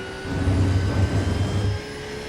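A Porsche 911 GT3 R in the iRacing simulator, its engine droning at full throttle at Mugello, a steady loud near tone that swells and holds for about a second and a half before easing off.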